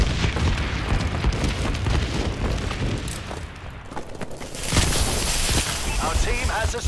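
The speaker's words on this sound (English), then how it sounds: "Enemy bombing run overhead." Bombing run explosions in Call of Duty Advanced Warfare, dense booming blasts and rumble layered over continuous battle noise, swelling louder toward the end.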